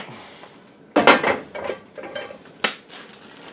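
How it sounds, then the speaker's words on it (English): A cast iron pot lid lifted off on a wood stove: a sharp metallic clank, then scraping and lighter knocks, and another bright clink near the end, close and moderately loud with no talk. "Okay, so lid off."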